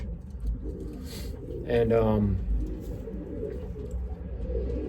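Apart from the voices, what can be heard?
racing pigeon cooing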